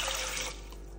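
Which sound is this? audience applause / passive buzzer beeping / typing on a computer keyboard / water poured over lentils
water poured over lentils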